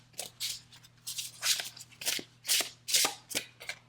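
Tarot cards shuffled by hand in quick, rhythmic riffling bursts, about a dozen papery swishes close to the listener, with a faint steady hum underneath.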